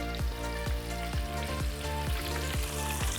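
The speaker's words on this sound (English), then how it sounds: "They're frying, they look great." Steady, dense crackling sizzle of shrimp frying in hot oil in a fryer, with a faint repeating low thump every half second or so.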